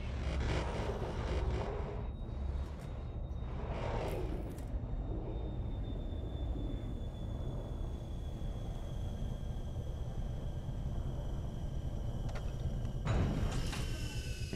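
A spacecraft in a video game deploys its landing gear and sets down on Europa, with a continuous engine roar, mechanical whooshes and a tonal whine building through the landing.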